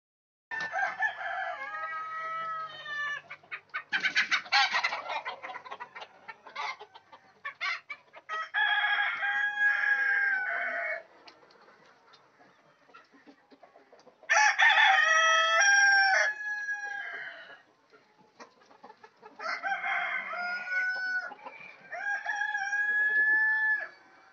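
Golden Misri chickens on a poultry farm, with several loud close crowing calls and repeated clucking phrases separated by short quiet gaps, heard alone without talk.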